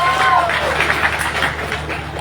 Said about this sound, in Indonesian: Tepuk tangan dulu buat Pak Irmi.